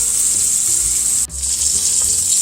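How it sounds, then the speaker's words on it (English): A beef pot roast browns in a pan, giving a loud, steady, hissing sizzle up close, broken by a brief dip as the meat is shifted, then sizzling on again. "We're going to brown both sides and both ends."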